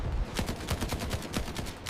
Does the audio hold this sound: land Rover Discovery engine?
no